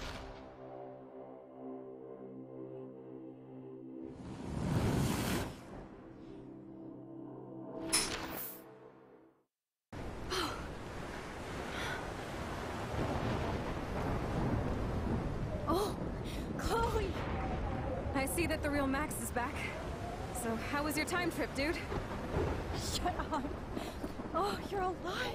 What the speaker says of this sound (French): Mais là, il y a une petite tempête.